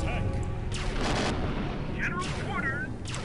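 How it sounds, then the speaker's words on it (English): A super cannon fires in the strategy video game Empire Earth, giving loud, booming blasts in two or three broad bursts over dense battle noise, with a voice talking over it. "Let's use my super cannon here."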